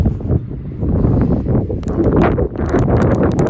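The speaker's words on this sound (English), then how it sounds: "It's nice and breezy out here today." Steady breeze gusting through an outdoor yard, a continuous soft rushing with faint rustling that swells and eases, close to the microphone.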